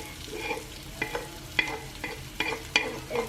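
Onion stirring and frying in a pan for a Manipuri-style chicken curry, with a steady sizzle broken by sharp scraping clicks of a spoon at irregular intervals, close and fairly quiet with no talking.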